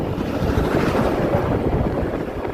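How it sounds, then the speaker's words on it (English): Heavy wind roars and buffets the microphone while riding an old moped on a road, a dense steady rush with no voices. "I'm just ripping around on the old moped."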